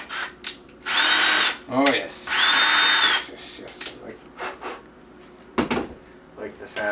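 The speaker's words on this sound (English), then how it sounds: "Like the sound of that powerful drill. 18 volts" An 18-volt cordless power drill bores a hole, with two loud whirring bursts of a few seconds each and shorter spins between, alongside light handling clatter and brief speech.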